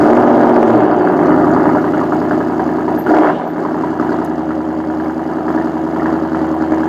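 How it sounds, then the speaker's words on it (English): A Ford Mustang Dark Horse's 5-litre V8 idles with a deep, steady burble close by, a brief rise in roar near the middle before it settles low again. "It is a Mustang Dark Horse, 500 horsepower, 5 litre V8 with an auto box"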